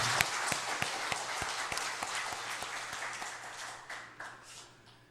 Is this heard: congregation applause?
yes